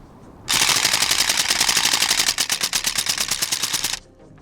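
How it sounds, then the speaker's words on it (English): A Northeast Airsoft Uzi fires full auto in one continuous magazine dump, a loud, close, rapid mechanical rattle that runs steadily for about three and a half seconds, its tempo growing slightly uneven toward the end before cutting off. "the UZI is more than capable of emptying the entire magazine in one fell swoop"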